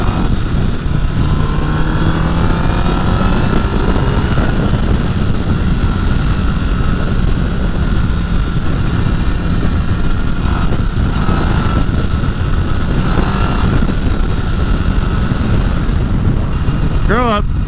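A Honda CBR 1000 Repsol sport motorcycle cruises at highway speed, around 60 mph at 5,000 rpm. A steady, loud engine drone blends with heavy wind roar throughout, close and continuous.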